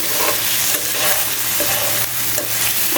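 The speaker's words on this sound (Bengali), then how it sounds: "দিয়ে দিব আমি এক চামচ ধনে পাতা কুচি দিয়ে এটাকে একটু মিশাই নেব" Taro stolon curry is stirred in a pan after chopped coriander goes in, producing a loud, dense frying hiss with rhythmic scraping strokes of the spoon, close up and free of voices.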